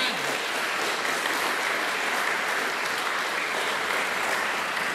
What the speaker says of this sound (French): Merci de vos applaudissements.